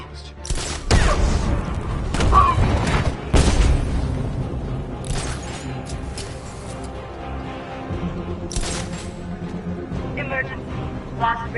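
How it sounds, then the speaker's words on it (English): Explosions at ACE Chemicals in a Batman video game, with several heavy booming blasts and crackling bursts spread across the stretch, loud and near, with a voice talking over them. "Get to your rendezvous point before the explosion,"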